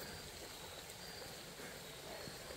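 A small waterfall on a little river spills over rocks, giving a faint, steady rushing and trickling wash with no talk and no breaks.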